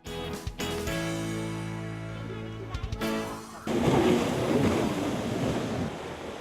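Surf washing onto a 750-meter white sand beach at Gumasa in Glan, heard as a steady, loud rush of breaking waves during the second half, after a tonal passage.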